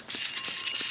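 A hand spray bottle mists a succulent plant in a succulent garden, giving three short hissing bursts in a steady rhythm, close and clear with no talking.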